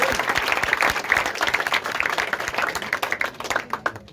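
Seminar audience applauding with dense, steady clapping for about four seconds, fairly close and full, tapering slightly toward the end.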